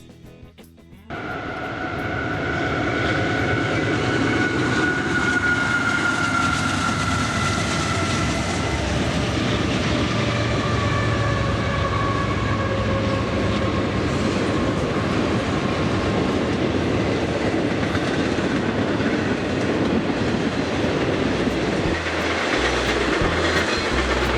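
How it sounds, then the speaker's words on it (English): A train rumbles loudly past on the track through a small town, with a heavy steady roar, faint clickety-clack and a drawn-out horn-like tone, sustained close by for the whole stretch. "This track and its trains fascinate me."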